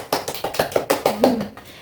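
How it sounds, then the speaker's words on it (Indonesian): A quick run of about eight evenly spaced hand claps during an elementary school lesson, close and fairly loud, ending in a brief voiced sound. "kita tepuk tangan sebentar ya"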